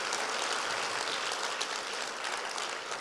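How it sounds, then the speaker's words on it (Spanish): A church congregation applauds loudly and continuously, a dense wash of many hands clapping at once with no pauses, close and filling the room throughout. "Dele un aplauso fuerte que glorifique el nombre de Dios"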